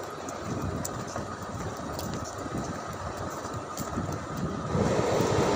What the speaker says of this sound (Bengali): ট্রেন ঢুকে গেছে, এবার আমরা আস্তে আস্তে ট্রেনে উঠছি।